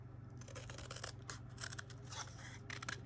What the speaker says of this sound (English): I want to cut some of this